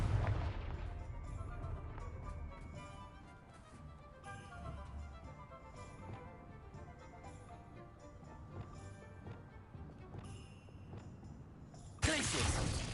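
A Confringo fire spell is cast in Hogwarts Legacy, a loud burst set within a dense, continuous wash of game effects and swelling music, with a sharp new impact near the end.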